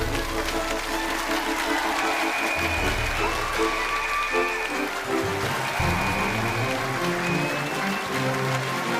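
Studio audience applause at the televised lecture show Kaijiangla greeting writer Eryuehe (Lin Jiefang), a steady broad clapping sustained for about nine seconds with a tonal musical layer running underneath.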